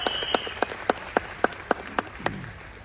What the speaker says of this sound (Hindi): एक बार जोरदार तालियां हो जाए वेस्टीज के लिए।